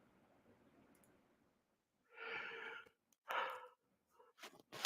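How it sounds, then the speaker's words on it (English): A person yawns audibly nearby, a long breathy exhale with voiced, sighing tone, followed by a few shorter breathy sounds and a faint click. "Who's yawning?"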